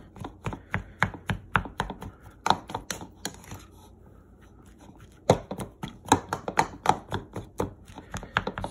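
A knife chops repeatedly through a salted salmon rice ball on a cutting board, a quick run of sharp close taps, a brief pause, then another burst of crisp cuts.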